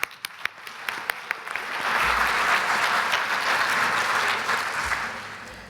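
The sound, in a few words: conference audience applause for carers and supporters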